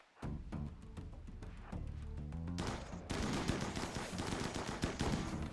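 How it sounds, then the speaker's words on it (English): Rapid video game gunfire, dense bursts of automatic shots that grow louder and more continuous partway through, close and sustained with no talking. "Let's try and gun down Walrus again"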